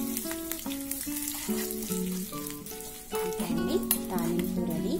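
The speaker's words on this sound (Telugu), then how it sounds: "కొద్దిగా వేగిన తర్వాత మనము ఎండుమిర్చి, కరివేపాకు వేసేసుకున్నాం." Dried red chillies and curry leaves sizzling in hot oil for a chutney tempering, a soft steady crackle running throughout beneath prominent melodic background music.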